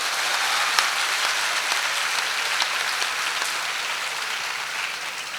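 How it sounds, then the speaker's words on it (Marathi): A crowd applauds at a public speech in Maharashtra, a dense, steady clapping that holds loud and even for several seconds with no voices over it. "एकदा जोरदार टाळ्या त्यांच्यासाठी होत्या"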